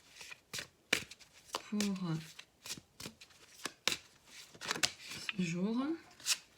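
Oracle cards being shuffled by hand in repeated short riffling bursts, crisp and close, alternating with someone speaking French between the shuffles.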